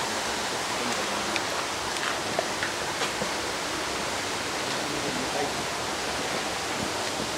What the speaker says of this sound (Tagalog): nagkaroon na waterfalls dito